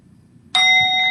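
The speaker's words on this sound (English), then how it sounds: "Singing bowl." A singing bowl is struck once during a family yoga session, and a bright, sudden tone follows. Its steady ringing overtones sustain evenly with little decay over a faint, quiet background.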